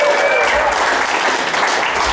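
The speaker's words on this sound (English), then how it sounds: "make some noise for Lurks" Crowd at a rap battle event applauding and cheering loudly and continuously for a team, a dense close wash of clapping throughout.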